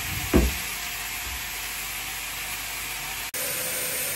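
Potatoes frying with turmeric in a pan, giving a steady, fairly loud broadband sizzle that holds throughout, with a brief stir or clatter near the start and a short dip close to the end.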